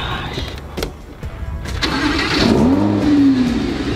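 A Lamborghini Huracan cranks and fires up, the engine catching with a rising rev and then settling into a loud rumbling idle close by, with faint background noise and a little speech.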